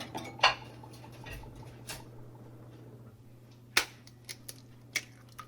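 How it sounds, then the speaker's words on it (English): Eggs cracked into a bread pudding mixture: a few sharp shell taps and clicks spaced over a few seconds, close and quiet against a low steady hum. "I'm cracking my eggs into the mixture"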